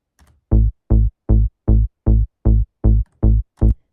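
Trance bass with saturation added: nine short, punchy plucked bass notes in a steady even pulse, each decaying quickly, close and solo, no talking.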